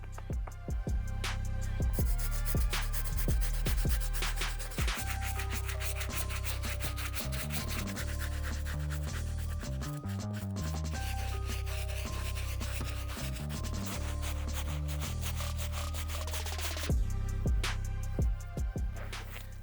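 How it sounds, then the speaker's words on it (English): Stiff bristle brush scrubbing the rubber outsole of a sneaker, producing close, continuous rhythmic scratchy strokes for nearly twenty seconds with no voices. "All right, onto the stiff bristle brush, onto this outsole."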